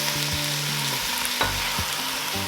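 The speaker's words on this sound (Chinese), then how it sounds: "不断翻炒" Tomatoes, onion and scallion whites stir-fry in a pan, producing a strong steady sizzle broken by a few sharp scraping strokes of the spatula, close and with no voices.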